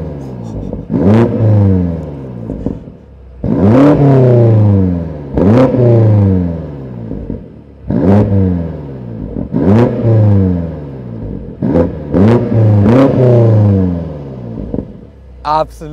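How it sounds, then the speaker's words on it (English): A European-spec BMW X6M Competition with OPF exhaust revs hard again and again, each rising roar dropping back, with crackles between bursts; loud and close. "experience the sound of this European spec X6M Competition with OPF exhaust"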